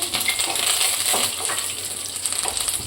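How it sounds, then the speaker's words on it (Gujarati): Curry leaves dropped into hot oil with roasted peanuts while making south Indian upma, giving a loud, steady hissing sizzle dotted with sharp crackles and pops throughout. "હવે આપણે લીમડાના પાન નાખીશું"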